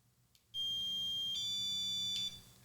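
A Martin System Micro b dog training collar emits a single steady high-pitched electronic beep tone lasting nearly two seconds, clear and close in a quiet room, with no talking.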